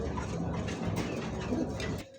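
Pigeons cooing at a Bangladeshi pigeon market, with fancy breeds such as Lahori, Bombay, racer and homer among them, under a steady crowd murmur that continues until it drops away at the end.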